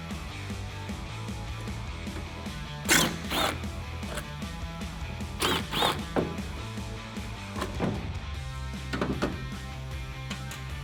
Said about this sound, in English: We're gonna remove the 2 bolts on the inside of the taillight.